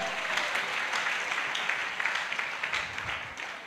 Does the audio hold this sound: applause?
yes